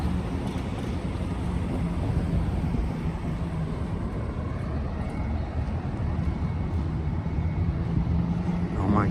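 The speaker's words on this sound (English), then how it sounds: "Goodness, there goes another lunch bus." A city bus rumbles past on a Minneapolis street under hazy wildfire smoke, a steady, loud low engine drone filling the whole stretch with no clear rise and fall.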